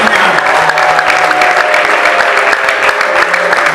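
Audience applause at a church choir's anniversary celebration, a dense, steady wash of many hands clapping that carries evenly through the whole moment with a faint crowd murmur underneath.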